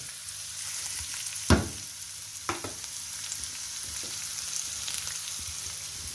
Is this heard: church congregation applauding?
no